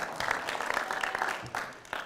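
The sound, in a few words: audience cheering and applauding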